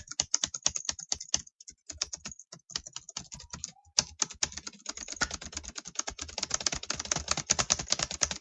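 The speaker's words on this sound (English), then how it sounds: "But you know earlier I said I love the sound of keys." Rapid typing on a computer keyboard, close and fairly quiet, with quick irregular key clicks that pause briefly and then speed into a dense, steady clatter, with no talking.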